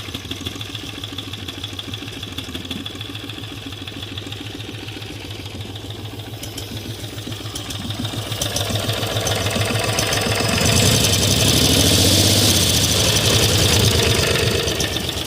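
An 18 HP V-twin engine on a minibike idles low with a steady, throbbing pulse, then grows louder and rougher partway through as it revs slightly, with no talking.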